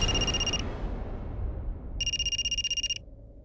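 A telephone rings in a home scene of a Hindi TV drama, with two bursts of electronic trilling, one at the start and one near the end, separated by a quiet gap.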